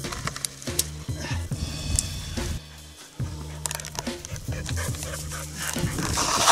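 A dog at a wild camp on Dartmoor panting and whimpering close by, with quick rhythmic breaths and occasional high whines, fairly loud and without speech.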